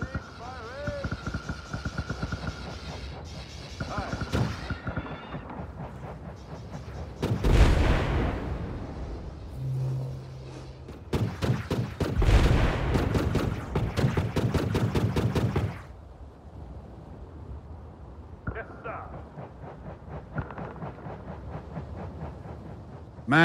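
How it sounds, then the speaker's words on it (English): Gunfire and artillery in the video game Bulwark Falconeer Chronicles, with booming blasts and rapid rattling bursts of shots at mid distance, interspersed with quieter stretches and some ambient battle noise. "We are under fire."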